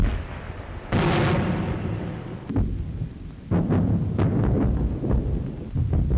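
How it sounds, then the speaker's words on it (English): Wartime bombing raid explosions over English cities, heavy booming blasts that roll out in repeated bursts, one big impact near the start followed by a dense series of further thuds and rumbling detonations. "The German bombers started to night raise the streets of England by mass bombing raids over London, Coventry, and Leeds, etc."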